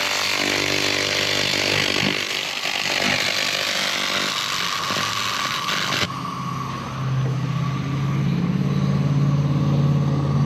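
A harsh, continuous buzzing and crackling from a high-power laser cleaning machine stripping paint from aluminum runs loud and steady, with the tone shifting partway through as the surface gets cleaner.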